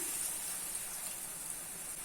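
Half a cup of water pours steadily into chicken tikka masala gravy in a pan, making a continuous soft splashing gush that lasts a couple of seconds with no talking.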